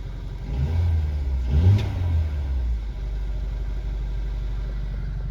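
A four-cylinder 2021 Mercedes-Benz AMG CLA35 4Matic engine revs up once, rising to a loud roar around the middle, then settles back to a steady low idle rumble.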